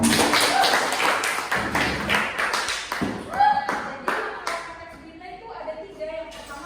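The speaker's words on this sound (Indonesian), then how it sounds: "Kasih tepuk tangan buat" A classroom group gives a burst of applause, sharp close hand claps for several seconds that thin into scattered taps, with voices talking over and after it.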